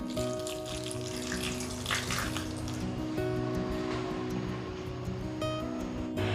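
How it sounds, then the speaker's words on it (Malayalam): Water splashes in a steady, unbroken stream while being added to a Kerala-style fish and mango meen peera cooking in a pan, fairly loud and close, with faint tonal sounds underneath. "ഇനി നമുക്കിതിലേക്ക് വേവിക്കുന്നതിന് ആവശ്യമായിട്ട് 2 ടേബിൾ സ്പൂൺ വെള്ളം ചേർത്ത് കൊടുക്കാം"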